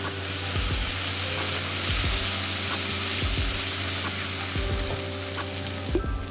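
Ground cumin frying in a pan for chicken curry gives a steady close sizzle and hiss, with soft scraping stirs at intervals and no talking.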